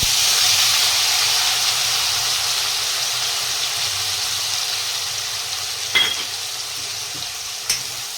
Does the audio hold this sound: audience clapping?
no